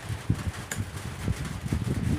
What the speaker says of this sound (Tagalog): Ito po natin ginawang mini electric fan po. Gumagana po siya.